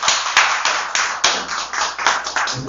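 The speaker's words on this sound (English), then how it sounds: "Can we all give a round of applause for the freshly brewed poetry event?" Applause rings out at a poetry open mic at Transfer Co in Raleigh, with close, crisp individual claps landing in an uneven rhythm over a short burst.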